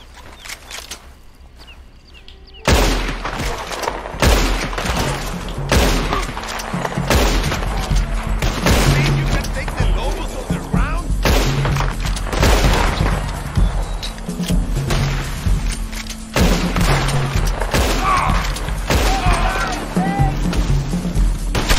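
Rifle gunfire and the open-world clatter of Red Dead Redemption 2 Online: after a quiet start, loud sharp cracks and booms come in irregular bursts over continuous thumping and hoofbeat-like rustle, with occasional voices mixed in.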